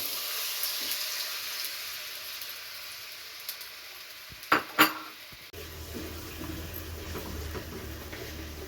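Masala paste with garlic and ginger frying in a pan, a steady soft sizzle with a few sharp clinks of a utensil against the pan partway through, then a louder, fuller sizzle as the paste hits the hot oil.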